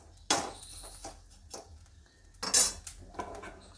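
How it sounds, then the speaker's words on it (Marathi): Raw peanuts tipped into salt already heated in a pan for salted roasted peanuts, giving sharp rattling clatters and clinks in a few separate bursts, close and moderately loud with quiet gaps between. "आता मिठात घालूया हे सगळे शेंगदाणे।"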